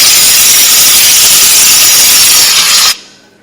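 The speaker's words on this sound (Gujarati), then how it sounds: "કુકરની સીટી અત્યારે?" A pressure cooker lets out a loud, steady, close steam whistle, a sustained hissing blast that cuts off sharply near the end and leaves a brief quiet tail.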